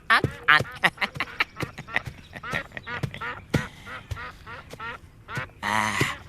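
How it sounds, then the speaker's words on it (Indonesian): Lesser whistling ducks calling in a drama scene, a rapid series of sharp, reedy quacks and whistles close by, with a few brief knocks and rustles between the calls. "saya bawakan burung meliwis sama jamur barat"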